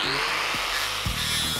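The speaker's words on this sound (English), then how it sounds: "Ribbed pad, 36 grit, take away the metal." Angle grinder with a fibre disc, 36 grit, on a ribbed backing pad grinding a weld off carbon steel, a loud continuous high whine with a steady hissing abrasive rasp throughout the short clip.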